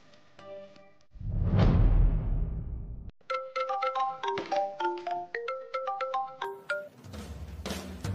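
A mobile phone plays an incoming-call ringtone, a bright melodic tune of repeated notes that follows a brief whooshing swell, close and clear with no speech.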